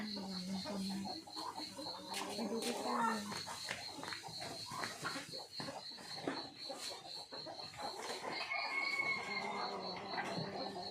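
Chickens cluck and a rooster crows as they are fed food scraps in a Thai rural yard in the morning. Calls come in uneven bursts at moderate distance, mixed with yard noise and occasional voices.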